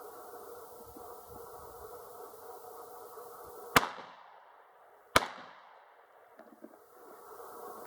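Fox Savage Model B side-by-side shotgun firing two sharp, loud blasts about 1.5 seconds apart, each ringing off briefly over a quiet outdoor background.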